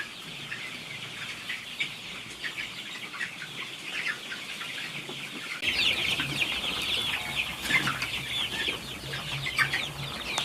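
Chickens cluck on a poultry farm, with a busy, overlapping flock that grows louder and denser halfway through.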